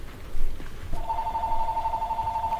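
A phone rings in the background, starting about a second in as a steady electronic tone that repeats through the rest of the clip at moderate loudness over low background noise.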